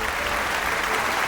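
Loud, dense applause from a Police Idol talent show audience, a continuous wash of clapping close and full for the whole moment, with no voices over it.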